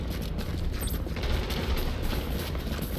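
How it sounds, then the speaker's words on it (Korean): Dense bursts of rapid gunfire in The Division video game crackle continuously with mechanical clatter, loud and sustained throughout, no talking. "총소리 겁나 나는데"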